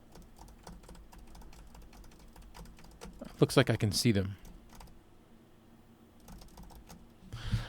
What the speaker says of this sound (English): And then we'll do some typing on the keys.